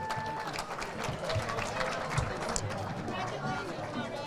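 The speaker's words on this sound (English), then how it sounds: "Let's have one more big round of applause for Casey, Jimmy, Fran, Marianne, and John" Guests at a Peekskill St. Patrick's Committee installation dinner give the honorees a round of applause, a steady clapping wash mixed with crowd chatter and voices throughout, moderately distant.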